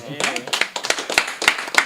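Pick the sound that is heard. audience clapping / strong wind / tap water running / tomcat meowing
audience clapping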